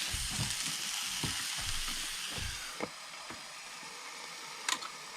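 Welsh burgers frying in a hot pan, a steady close sizzle and crackle with a few sharp ticks and clinks of a utensil, no one talking.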